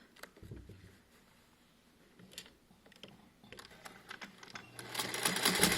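A domestic sewing machine stitches the seam of a fabric head cover for medical staff, with short bursts of quiet mechanical whirring and clicking that build into a louder, continuous run near the end.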